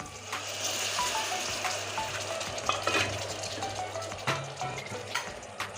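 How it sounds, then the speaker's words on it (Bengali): Water hits a pan of frying spice mixture for a grated taro curry, producing a close, busy sizzle and bubbling hiss with light stirring and scraping throughout. "আমি এখন জল দিয়ে দিচ্ছি"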